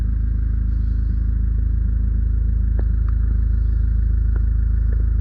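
A Mahindra Scorpio engine with a faulty engine mount bracket and a cut belt idles in a loud, steady, close low rumble with heavy vibration, broken by a few faint clicks and rattles.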